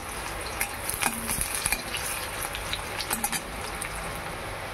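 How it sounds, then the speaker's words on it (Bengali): Onions with bay leaves frying in a wok, a steady sizzle with a few brief stirring scrapes and clinks close up, no voices. "পেঁয়াজ ভাজা হয়ে এসেছে"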